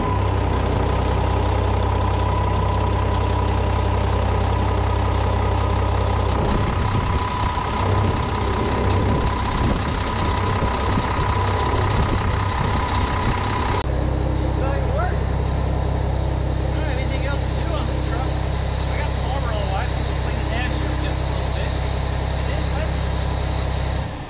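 A Mack truck diesel engine idles with a newly replaced fan clutch, a loud, steady drone that roughens partway through and shifts character again as the fan engages.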